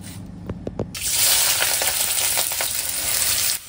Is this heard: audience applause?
no